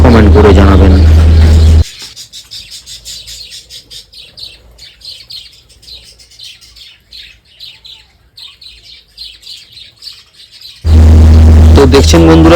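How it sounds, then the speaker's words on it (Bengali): Pet budgerigars chirp and twitter in a steady, lively chatter while eating, a dense stream of small high calls in the middle stretch, with louder voice or music passages at the start and end. "আমার পাখিগুলো কত সুন্দরভাবে আনন্দে খাচ্ছে।"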